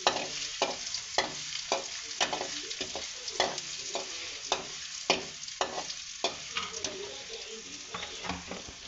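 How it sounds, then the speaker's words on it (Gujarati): Finely chopped onion sautéing and being stirred in a pan, a steady close sizzle broken by repeated sharp scrapes and taps of a spoon against the pan, with no talking. "ત્યાર પછી આપણે કટિંગ કરેલી ડુંગળી ઝીણી સુધારેલી એ આપણે સાતરવાની"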